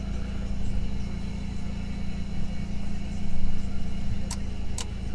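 A 1997 Chevrolet Camaro engine idling just after starting, a steady low rumble with a slight rise midway, close and unbroken, with two faint clicks near the end.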